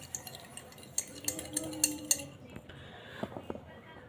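Spoon clinking and scraping against a bowl as flour, sugar, a pinch of salt and yeast are stirred together for traditional Old Dhaka golgola dough, a run of sharp taps early on, then softer scraping.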